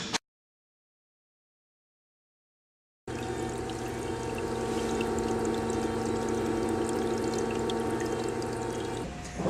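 Water flushing through the lower half of an engine head after silence, a steady loud rushing pour that starts abruptly and runs on evenly until cut off.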